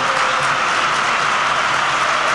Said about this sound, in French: on va écouter le public du Real. Écoutez le stade Santiago Bernabéu.